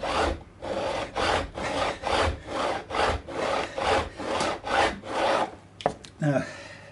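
Fret ends being trimmed on a Fender Mexican-made Stratocaster during a re-fret, heard as a steady, rhythmic rasping stroke repeated about a dozen times up close, ending with a couple of sharp clicks.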